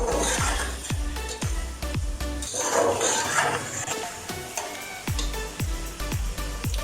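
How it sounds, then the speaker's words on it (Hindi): Chicken biryani masala fries and is stirred in a pot, with a steady sizzle under repeated sharp spoon knocks against the metal, close and fairly loud. "अब इसे अच्छी तरह से भून लेते हैं।"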